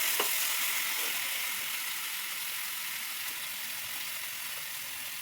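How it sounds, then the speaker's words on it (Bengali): Meat fries in hot oil in a pan with browned onions, a soft, steady hiss and crackle at a distance, with faint occasional stirring noises and no voices. "এবার মাংসটা ওই তেলের মধ্যে দিয়ে ভালো করে"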